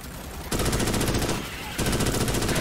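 Rapid automatic gunfire from Starship Troopers: Extermination comes in two sustained bursts of steady, evenly spaced shots, loud and close, separated by a short lull.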